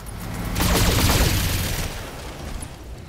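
Machine-gun fire from a mech in the BattleTech game, a dense rattling burst swelling in around half a second, holding loud for about a second, then trailing into a rumbling decay, with no talk over it.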